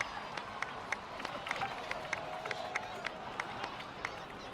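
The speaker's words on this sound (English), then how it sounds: "please give another round of applause for them" Steady applause with crisp claps and a crowd murmur underneath, moderately faint and distant, continuing evenly throughout, in the video game Genshin Impact.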